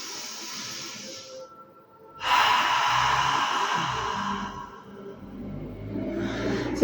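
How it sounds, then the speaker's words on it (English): Audible Ujjayi practice breaths in a yoga session: after a quiet start, a long breathy, hissing exhale swells and holds for a couple of seconds, easing off before another breath builds at the end, close and unaccompanied by speech. "just take a couple of practice breaths for that Ujjayi breathing"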